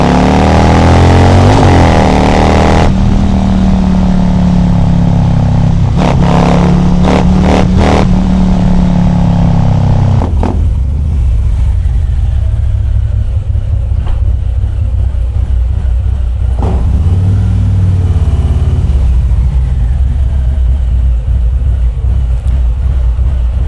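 A Harley-Davidson motorcycle on a chilly ride, a loud, constant low engine rumble with a rising rev early on and steady road and wind roar through the rest.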